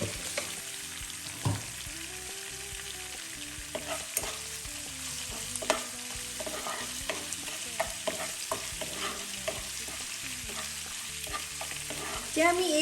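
Sugar sizzling and frying in hot oil in a pan while being stirred, for a homemade chicken roast, with a continuous crackle close up and scattered clinks of the spoon.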